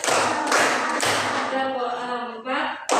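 A class of fifth-grade students claps in unison, with sharp group claps spaced about half a second apart, then a pause filled by the children chanting together before another clap.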